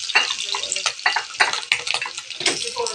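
Ham sizzles and crackles in a hot frying pan, close and steady, with bursts of spattering and occasional stirring noises.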